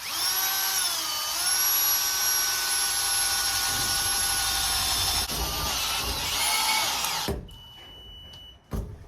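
Milwaukee power drill boring a hole near the edge of a panel, a loud steady whine with high harmonics that wavers in pitch for about seven seconds before stopping abruptly, followed by a brief clunk.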